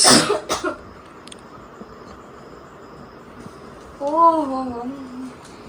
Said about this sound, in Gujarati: કેક ખાધા ભેગી ઉધરસ શરૂ થઈ ગઈ